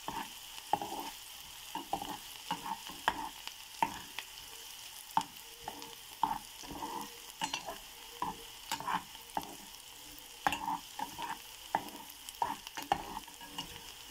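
Onion and garlic sizzle in a hot pan, with a continuous low frying hiss broken by frequent scraping stir strokes at an irregular rhythm, heard close and alone without talk.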